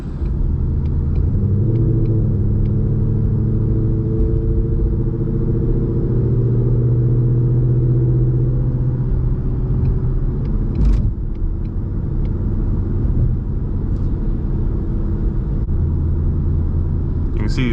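A 2020 Ford Mustang GT with a Borla exhaust drives through a tunnel at night, its engine rumbling deep and loud from inside the car, rising and easing with throttle, while a person talks over it.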